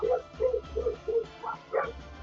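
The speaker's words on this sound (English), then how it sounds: "And a barking dog" A dog barks in a quick series of about six sharp, close barks, then two higher yelping barks after a short pause, with no voices over them.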